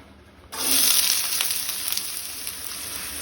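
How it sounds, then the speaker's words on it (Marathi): Two finely chopped onions hit two spoonfuls of hot oil in a pan on a gas stove, bursting into a loud sizzle that then settles into a steady, slightly fading fry. "हांवें 2 कांदे बारीक चिरून घेतल्या, ते घालता।"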